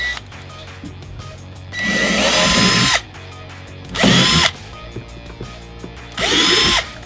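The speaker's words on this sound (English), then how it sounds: "we'll go ahead and drill the holes" A power drill whirs in three short bursts, about a second each, close by, drilling screw holes while replacing a factory JBL woofer in a Toyota 4Runner, with quiet pauses and light handling noises between.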